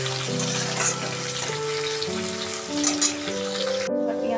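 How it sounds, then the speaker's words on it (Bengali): Chopped onions fry in a pan for aloo dum, a continuous close sizzle with a steady tonal melody playing alongside it; no speech. "পেঁয়াজটা আমার ভাজা ভাজা হয়ে গেছে।"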